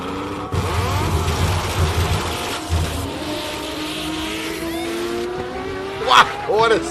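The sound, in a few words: hill climb race car driving past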